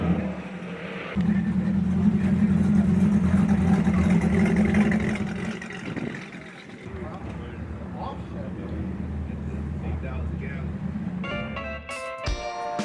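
A highly modified late-model 427 V8 in a classic Ford pickup gives a steady, loud engine rumble that eases off midway, with a person talking over it throughout.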